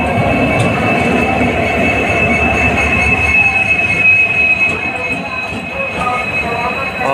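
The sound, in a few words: WDP 4D diesel locomotive train moving forward for reversal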